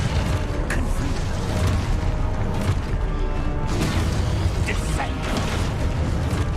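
Fiery Confringo blast spells go off in the Hogwarts Legacy video game amid steady, dense rumbling booms and crashes of battle, with a player's voice shouting spell names over the noise.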